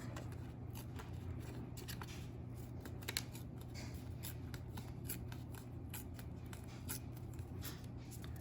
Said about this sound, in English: Now, tear this part off.